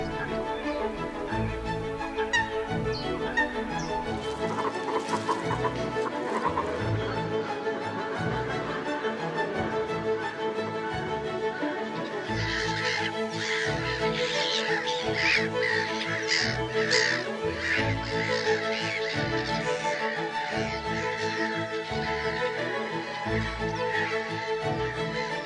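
Greylag geese calling in a wetland in spring, a continuous dense chorus of harsh honks and calls from many birds, growing busier in the second half.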